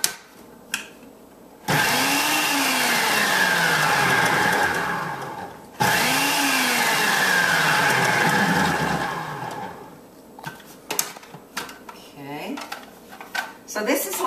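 Food processor pulsing chopped onion and cilantro, two loud whirring bursts of about four seconds each separated by a short pause, then quieter clatter and handling afterward.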